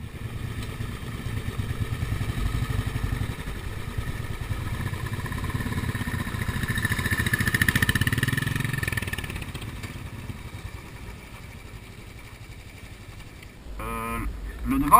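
A British-derived classic motorcycle engine runs steadily through most of the ride on a road in Catalonia, a low mid-range drone with wind buffeting, easing off near the end before a brief clatter.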